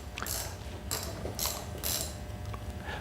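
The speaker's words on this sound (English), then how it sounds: "Very important that those be tightened up securely." Set screws on a CS-1 sifter shaft are tightened with an Allen wrench, producing about four loud, bright metallic ratcheting clicks in a steady rhythm, close up and with no talk.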